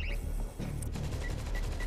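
An automatic turret fires at zombies in World War Z, with rapid gunfire crackling over dense game noise and short repeated tonal beeps toward the end.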